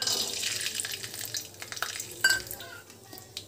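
Cashews frying in hot refined oil for aloo dum biryani, a soft steady sizzle with light stirring scrapes and a small clink partway through, close and without talk.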